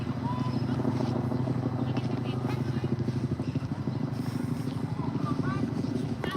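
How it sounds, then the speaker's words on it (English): A helicopter flies overhead in Manhattan's Central Park, its steady rotor thrum running through the whole clip beneath a mix of outdoor park noise. "There's a helicopter above us,"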